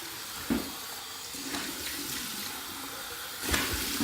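A bathroom tap runs for a rinse after shaving, a steady close gush of water with hands splashing through the stream in a few short bursts.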